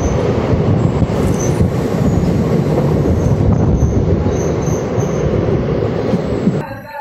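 A train rumbling through Yadvindra Nagar railway station on the Jaunpur to Aunrihar line, with loud clattering wheels and high metallic squeals, before the sound drops off sharply near the end.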